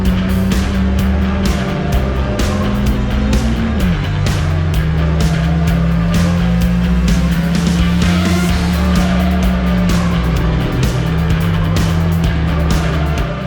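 A Mini Cooper race car engine drones loud and close while overtaking a rival on a race track in Riga, holding a steady high-revving tone with brief pitch drops at gear shifts.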